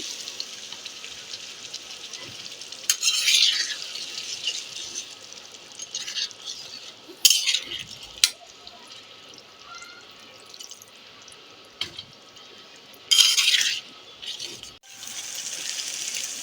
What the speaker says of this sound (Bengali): কলিজাগুলো কষানো হয়ে গেছে আর পানি দিয়ে দিচ্ছি। আমি এখানে গরম পানি ব্যবহার করেছি।